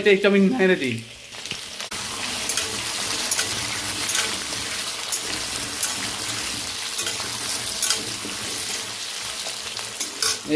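Taro and potato pieces frying in a pan, a loud continuous sizzle with scraping stirs after a brief spoken moment at the start, the crackle holding steady up close.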